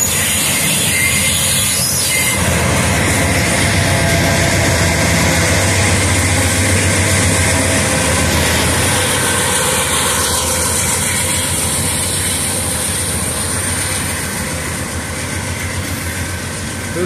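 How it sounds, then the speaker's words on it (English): A loud mid-train distributed power freight locomotive rumbles close by at a grade crossing with a heavy diesel drone and rattling wheels, holding steady before easing off slightly at the end. "Here comes a mid-train DPU."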